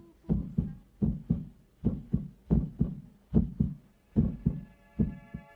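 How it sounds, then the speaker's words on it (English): A heartbeat sound effect in an Andrei Tarkovsky film thumps in a steady rhythm of paired beats, close and prominent, with a faint sustained tone entering near the end. "they may remember the sound of their heartbeat"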